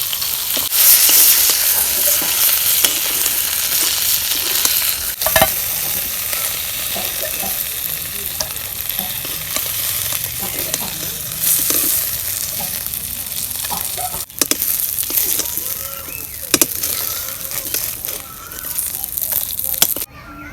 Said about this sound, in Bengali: মাছ ভাজা বইছে এখন